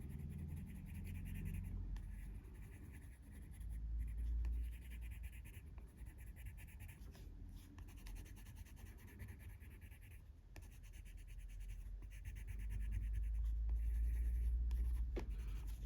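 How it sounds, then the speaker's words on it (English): Soft, continuous scratchy rubbing of a pencil on paper, close up and quiet, in steady back-and-forth strokes with faint low background rumble. "you can use your blender pencil to just smoosh it all in."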